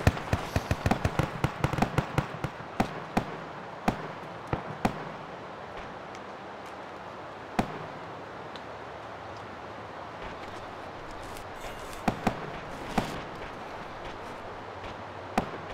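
Enemy gunfire in a convoy battle in a tactical video game, a sharp, dense crackle of shots early on, then scattered distant cracks over a hissing, windy background.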